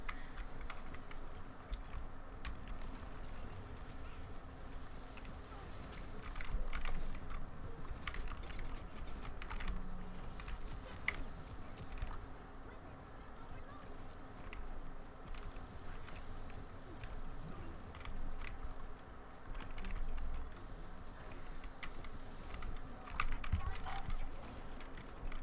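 Typing on an old computer keyboard, a steady patter of faint clicking keystrokes at a distance under constant background hum and noise, with occasional murmured speech.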